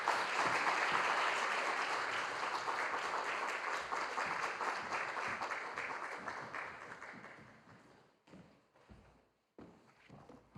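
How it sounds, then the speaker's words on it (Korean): A church congregation claps together in thanksgiving during a Friday prayer meeting, dense sustained applause that gradually thins and fades out into a few scattered final claps. "하나님께 감사의 박수를 올려드리겠습니다."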